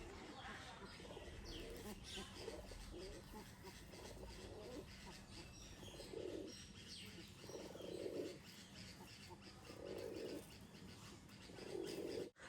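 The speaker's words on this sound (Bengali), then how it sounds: "সুন্দর কবুতর, মাশাআল্লাহ দেখতে পাচ্ছেন" Homer pigeons at a breeding farm coo in low repeated bursts, moderately close, amid light chirps and steady background noise.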